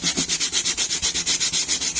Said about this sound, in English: the sandpaper won't move because of the water, and you get a better contact area and easier on your fingers